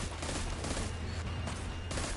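A quick, dense burst of gunfire comes from a Destiny 2 strike and plays fairly quietly as several overlapping shots rattle in a short volley.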